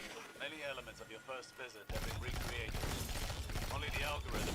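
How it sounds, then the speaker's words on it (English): Gunfire in the shooter game Destiny 2 erupts as dense, loud bursts of shots following a stretch of someone talking, his voice continuing over the shooting. "I'll actually shoot my gun here in, well, right now"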